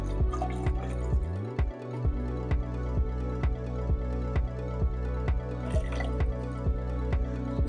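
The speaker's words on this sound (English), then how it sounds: "I'm just gonna pour a little bit into my tube." Homemade prickly pear cactus wine is poured from a secondary fermenter into a hydrometer tube, making a steady run of rhythmic glugs and drips close by over a low hum, with no talking.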